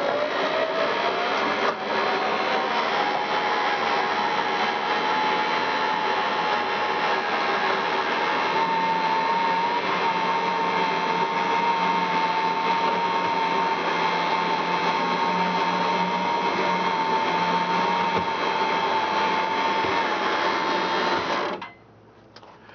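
An electric winch hauls a generator up a ramp with a steady, even motor whine and drone that holds for about twenty seconds, then cuts off abruptly near the end.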